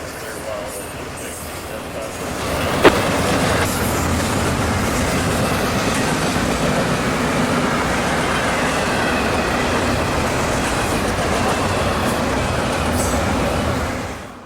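The Q177 nightly intermodal freight train from Jacksonville to Winter Haven, led by two standard-cab locomotives, rumbles past nearby with steady rolling wheel noise and clatter, a brief sharp squeal early on, fading at the end.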